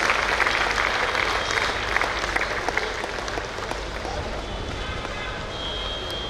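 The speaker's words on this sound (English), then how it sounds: "Let's give this wonderful couple a big round of applause." A large audience at a Rotary district conference applauds loudly and steadily in a hall, with dense overlapping clapping and faint crowd murmur underneath that eases slightly toward the end.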